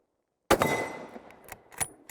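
A single sharp, loud rifle shot from a Savage 30-06 rings out close by after silence, its echo decaying, followed by a few faint clicks and knocks.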